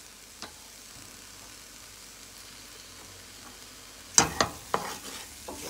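Vegetable cook-up rice with parsley and broadleaf thyme stirred in a pot: after a quiet stretch, a few close scraping, knocking strokes of a spoon land near the end over a faint sizzle.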